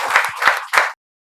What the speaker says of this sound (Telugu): మీకు చప్పట్లతో స్వాగతం తెలియజేస్తున్నారు ఇక్కడ ఉండే విద్యార్థులు.